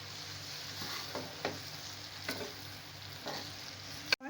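Chili spices stirred into a sizzling potato and arbi (taro) curry, a steady fry hiss with a few soft spoon scrapes spaced through it, close and moderately quiet, ending in a sharp knock.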